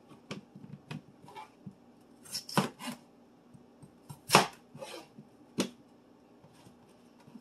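Knife chopping meat into pieces on a board for a crock pot London broil, a handful of sharp, close knocks spaced irregularly, with softer taps and handling noises between them.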